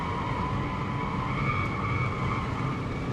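A Honda Accord Sport family sedan is driven hard around a racetrack, its tires squealing in a sustained, shrill skid over a steady engine roar.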